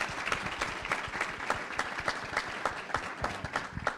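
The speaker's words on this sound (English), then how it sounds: "I think that deserves a round of applause." Audience at a business workforce summit breakout session claps for a military veteran's lifetime of service; individual claps stand out distinctly in a small, moderately close crowd.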